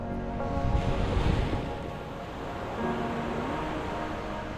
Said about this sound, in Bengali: সমুদ্র শুধু গর্জন করেই চলেছে